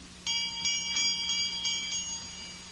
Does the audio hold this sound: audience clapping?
no